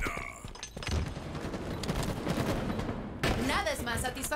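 Rapid video game three-round-burst gunfire crackles in dense bursts over busy game noise, loud and close, with a brief lull before another volley.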